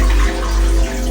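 Water pouring in a strong, steady stream into a Vitamix blender jar, loud and close, with a brief surge in flow near the end, no voices.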